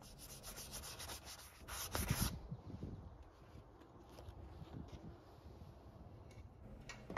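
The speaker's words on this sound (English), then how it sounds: "I use 220 grit sandpaper to take off the excess wood filler" Hand sanding with 220 grit sandpaper strips excess wood filler from a wooden table leg made from an old sled, a quiet, steady scratching that swells into a few stronger strokes midway and then continues more softly.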